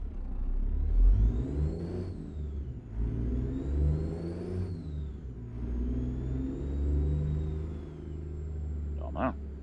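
Freightliner Argosy truck engine in American Truck Simulator, a low rumbling drone that rises and falls over several smooth gear changes, steady and close throughout with a brief click near the end; someone talks over it.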